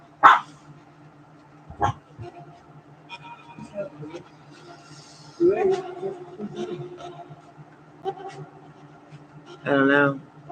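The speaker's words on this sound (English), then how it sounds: "They're just barking at nothing." Several dogs bark indoors on a rainy night, with sharp irregular barks and yips spread throughout, some louder bursts and some quieter ones, and a voice speaking between them.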